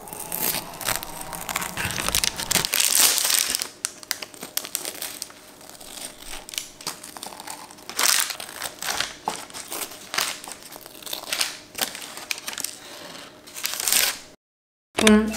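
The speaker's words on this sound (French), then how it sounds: "Donc, je vais le découper," A freshly baked pumpkin spice cake is cut into, giving loud close crinkling and crunching with irregular scraping bursts that run on without pause, a brief silence near the end, and no talk.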